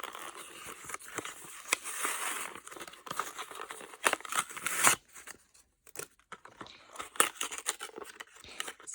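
Paper and plastic packaging from a March 2021 Boxyluxe beauty subscription box being torn and crinkled open up close, with rustling, crackling rips and pauses between bursts.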